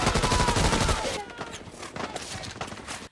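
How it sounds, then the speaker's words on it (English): Dense gunfire from the 2002 war film We Were Soldiers: a loud rapid fusillade of overlapping shots for about a second, then thinner scattered shots and distant bursts. "the constant sound of the gunshots is making my heart race"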